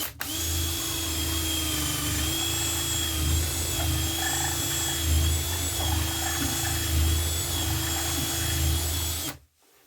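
A power drill runs steadily for nearly ten seconds, a close, continuous whine with a low grinding rumble as it bores a cable hole through a wooden lamp base, then stops abruptly.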